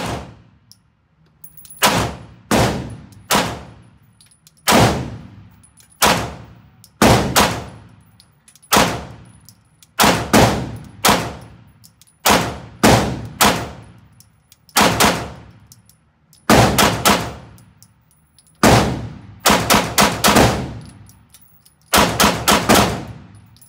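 Pistol shots fired at steel targets from 10 yards, about twenty sharp loud cracks each followed by a ringing metallic clang, in quick strings separated by brief pauses.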